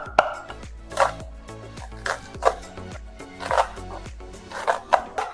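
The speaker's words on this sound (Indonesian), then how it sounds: "Aku cincang kayak ini kasar-kasar." Knife coarsely chopping chicken on a board, about eight sharp, evenly spaced chops heard up close, with a low background hum and no speech.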